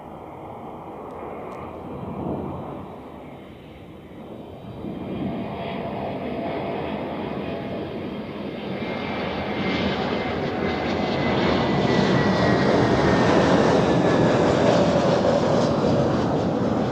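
A jet airliner touches down at Zurich Airport, its engine roar building from a distant rumble to a loud, broad whine and rush of reverse thrust that swells toward the end, with no talking.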